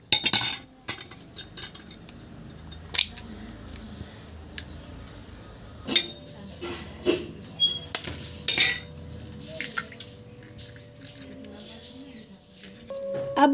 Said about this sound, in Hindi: चलिए अब हम अंडे को तोड़ लेते हैं।